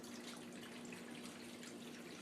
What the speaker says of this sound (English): Now I'm just going to fill up my roasting pan.